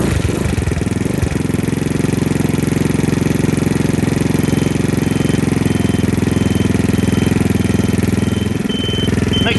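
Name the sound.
Chinese scooter engine running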